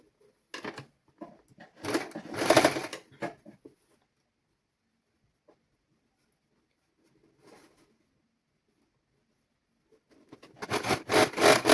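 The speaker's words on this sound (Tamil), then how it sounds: "இப்படி மடித்து போட்டு திரும்ப ஒருக்கா மடிச்சுட்டு அப்படியே சுற்றி வர தைச்சு கொண்டு வரலாம்." Sewing machine stitching the folded hem of a baby summer dress, two short runs of rapid mechanical clatter separated by a long quiet pause with faint handling sounds, close and without talk.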